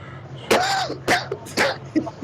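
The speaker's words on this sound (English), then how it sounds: "I got somebody coughing then." Three or four harsh coughs spaced about half a second apart, close by, over a faint background hum.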